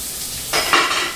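Chopped onion dropped into an oiled hot pan for a beef pot roast gives a sudden close sizzle and scrape about halfway through, after a quiet moment, then settles into a steady hiss.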